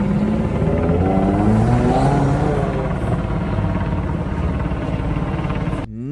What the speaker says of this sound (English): A Black Hawk helicopter was circling the area all night, even during the clashes.